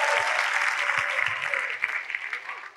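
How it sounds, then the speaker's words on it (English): A church congregation claps loudly and steadily, a dense wash of applause that tapers slightly toward the end, with a voice briefly audible beneath it. "Clap for Jesus and take your seat."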